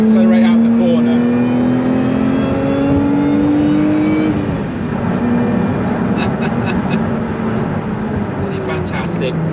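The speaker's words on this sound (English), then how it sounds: "Down the gear, turn it in, accelerate out the corner." Lotus Emira sports car engine pulling hard out of a corner after a downshift, a loud, steady rising drone that dips briefly at the gear change and then climbs again, heard close from inside the cabin.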